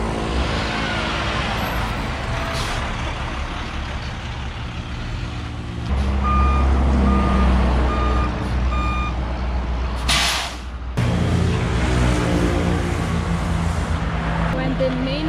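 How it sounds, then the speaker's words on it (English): A tow truck pulls in on a roadside in Colombia, its reversing alarm sounding as a steady string of evenly spaced beeps over a loud, close diesel rumble, with a brief hiss like an air brake and road traffic around it. "there's the tow truck coming"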